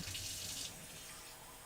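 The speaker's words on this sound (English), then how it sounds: "I am going to need a little bit more water." Water runs from a kitchen tap in a steady, close hiss that is louder at first and then settles to a softer, even flow, with no talking.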